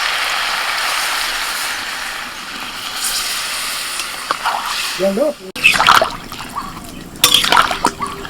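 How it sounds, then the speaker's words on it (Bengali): Water is poured into a pan of browned chicken stew on the stove. A steady sizzle and hiss gives way to splashing and bubbling pours near the end, with a person talking throughout. "এবার জল দিবি"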